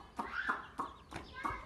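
Chickens and chicks in a village yard give several short, quiet clucks and chirps in an irregular rhythm, close by, with a faint voice in the background.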